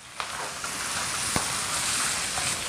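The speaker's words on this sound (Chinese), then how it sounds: "一定要把油脂煸炒出来" Pork stir-fries in a wok to render out its fat for twice-cooked pork with pickled cabbage, a continuous close sizzle with a few sharp spatula clicks.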